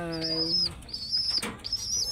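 Pet pigeon close by cooing low and steady, followed by a sharp burst of wing flapping, with a high whistling tone coming and going in the background.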